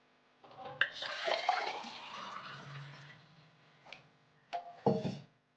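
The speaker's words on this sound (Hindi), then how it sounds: "तो ये गिलास में डालूंगी।" Boiled drinking water poured from a container into a glass in a home kitchen, a steady splashing pour running for several seconds, followed by a few short clinks and knocks of the vessels.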